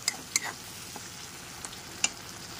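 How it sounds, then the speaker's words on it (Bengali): Spice masala fries and is stirred in a pan with a faint, continuous sizzle, broken by a few sharp ticks of a utensil against the metal. "মশলাটাকে এখানে খুব সুন্দর করে কষিয়ে নিতে হবে।"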